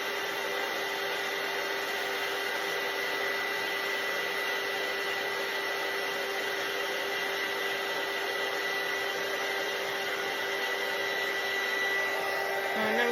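A handheld heat tool melts embossing powder on paper earrings with a steady, close, unbroken whooshing hum that holds at an even level throughout.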